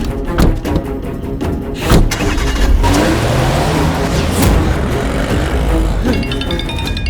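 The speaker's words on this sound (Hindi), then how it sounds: "नहीं रैम्बो, ड्राइविंग करते वक्त गाड़ी में फोन उठाना गलत है।" A car on the road accelerating, with a loud, continuous engine and road rumble that rises in pitch, close up and alone.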